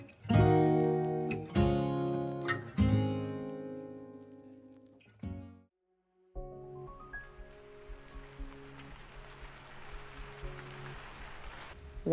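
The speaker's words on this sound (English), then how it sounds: "when the rain starts to finally grace us with her presence after many dry months" Rain falls in Bolivia after many dry months, a dense, even hiss of drops arriving partway through after ringing musical chords and a brief silence, then continuing with soft tones over it.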